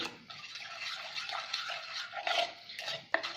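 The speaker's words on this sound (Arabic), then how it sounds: "نخلط المقادير هذه جيدا" Marinade spices and mustard are mixed for chicken in a bowl, giving a steady, close, wet swishing and scraping with a brief clink near the end.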